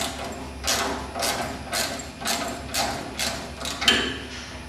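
A socket wrench loosens a 12mm set screw on a bracket, giving about seven evenly spaced ratcheting clicks in a steady rhythm, close and fairly loud.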